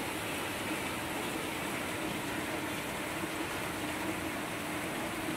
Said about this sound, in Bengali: ঝরঝরিয়ে বৃষ্টি হচ্ছে